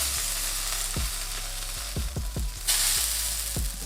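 A beef burger patty for a homemade Big Mac sizzles and fries in a pan, giving a steady close hiss broken by several sharp pops and crackles, with no voices.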